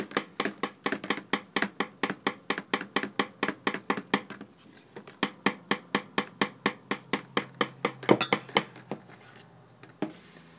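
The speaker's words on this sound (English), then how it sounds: "Now I'm ready to start mixing in the fragrance oil." Soap batter being mixed by hand after adding fragrance oil for the final layer, making a steady run of quick, evenly spaced tapping and scraping strokes against the container, fairly loud and close, with no talking.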